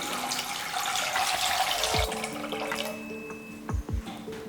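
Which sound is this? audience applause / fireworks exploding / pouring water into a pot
pouring water into a pot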